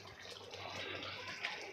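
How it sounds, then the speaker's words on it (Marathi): Half a cup of heated water pours steadily into a pot of chicken curry in a continuous broadband rush for under two seconds, fairly quiet, with no voices over it. "आता इथे मी अर्धा कप पाणी घालणार आहे"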